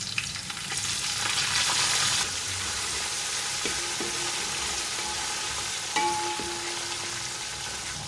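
Onions and whole spices, including cardamom, fry in a pot for pulao, giving a steady close sizzle with a few soft clinks of stirring.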